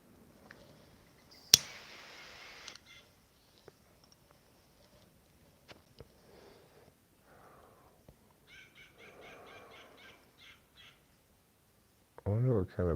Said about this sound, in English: I wonder what kind of bird that is making that squawking sound over it. I think that's a jay